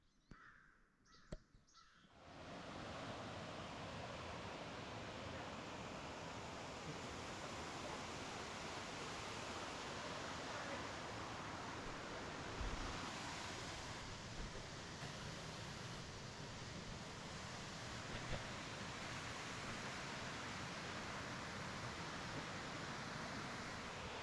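A waterfall in the Appalachian Mountains roars as a steady, even broadband rush heard from nearby, after a few brief knocks at the start.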